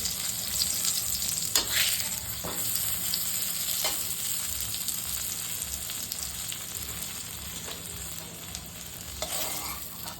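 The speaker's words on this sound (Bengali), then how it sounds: "ধিমি আঁচে করে ভাজছি, হ্যাঁ, কম তেলে, তাহলে ভালো করে ভাজা হবে।" Eggplant coated in salt and turmeric fries in a little oil on low heat, with a steady close sizzle broken by occasional scraping and clatter as the pieces are turned, fading slightly toward the end.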